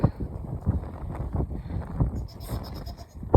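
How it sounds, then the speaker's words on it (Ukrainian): Goats roaming loose on a village homestead bleat repeatedly at close range over a steady rush of wind noise. A louder burst comes right at the end. "Кіз теж прив'язують, але у нас тут вони гуляють."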